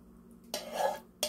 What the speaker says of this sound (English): And then you're going to transfer this to your baking dish.